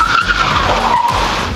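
A car's tires squeal loudly and steadily as a driver brakes hard without ABS, the rubber skidding across the pavement in one sustained screech with engine noise underneath.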